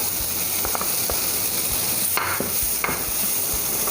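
Paneer cubes sizzle steadily in butter, oil and spices in a pan, a continuous loud frying hiss with occasional stirring clinks and scrapes.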